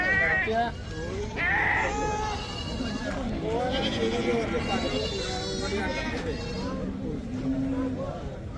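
Native breed goats bleat repeatedly, close by at a goat market in Chattipparamba, Kerala, their wavering cries overlapping with people talking nearby.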